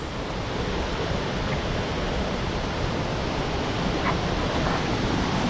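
Waterfall at Sankhay Dhunga: a steady, dense roar of falling water fills the whole stretch at even loudness, broad and unbroken like heavy surf, with no voices.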